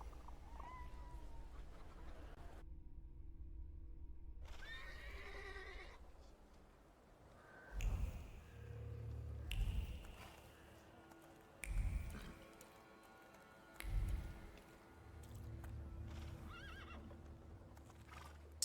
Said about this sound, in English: I meant to take the horse out for a ride